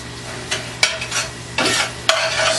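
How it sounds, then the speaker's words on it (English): Ginger frying in a pan at medium heat, a close bright sizzle with repeated scraping stirs and a few metallic taps, the hiss swelling loudly in bursts with no talking. "I'm going to turn this back on to about halfway, medium heat. And add the ginger"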